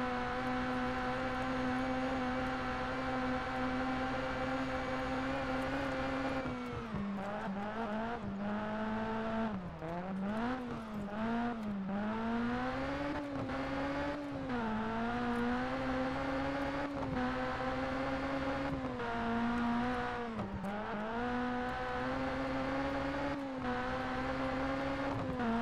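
Video game Citroen Saxo rally car in Sébastien Loeb Rally Evo climbing the Pikes Peak course, its engine droning steadily then rising and dipping through repeated revs and gear changes over a long stretch, with no talking.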